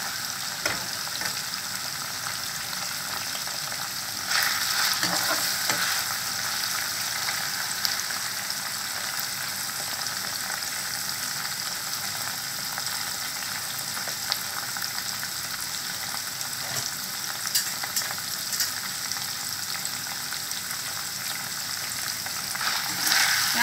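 Cauliflower pieces for pickle fry in hot oil with a steady, dense sizzle that runs close and unbroken for the whole stretch, a few louder crackles and spatters rising now and then.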